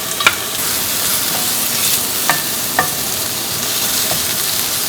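Carrot, mushroom and onion stir-fry in a hot oiled pan, a continuous hiss of sizzling broken by a few sharp scrapes and taps of a utensil.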